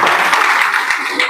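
Brief burst of audience clapping at a kirtan gathering, dense and close, lasting about a second.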